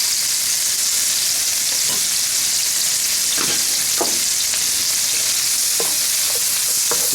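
Half an onion frying in a hot pan for parmesan garlic chicken with creamy pasta, a loud, dense, steady sizzle close up, with a few scattered scrapes and knocks of a utensil against the pan.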